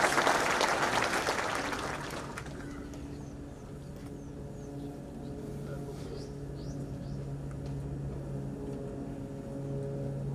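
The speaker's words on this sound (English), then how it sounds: "Let's give him a big round of applause as he comes here" At a graduation ceremony of the Kenya School of Government, a hall audience bursts into loud applause that fades out after about two seconds, leaving a low steady hum and faint background drones.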